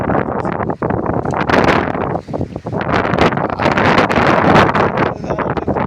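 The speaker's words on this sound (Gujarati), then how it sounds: "વધારે પવન છે" Strong wind over a guar crop field buffets the microphone in loud, roaring gusts that swell and drop briefly, with rustling underneath.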